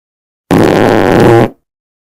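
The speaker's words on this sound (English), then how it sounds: "Did you just fart?" A loud, sustained fart lasting about a second, close and alone, ending abruptly.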